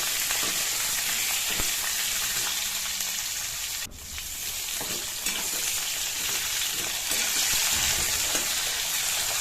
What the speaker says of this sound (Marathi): शेंग चांगली तेलामध्ये परतून घेऊया आपण व्यवस्थित